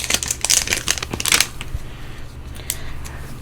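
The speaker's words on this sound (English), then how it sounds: "you grab two packs, shuffle them up, and play" Two Magic: The Gathering Dominaria United Jumpstart card packs are shuffled together by hand, giving close crisp riffling bursts for the first second and a half, then softer, quieter handling.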